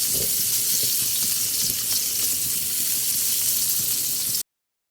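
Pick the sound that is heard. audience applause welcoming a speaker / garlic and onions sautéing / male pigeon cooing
garlic and onions sautéing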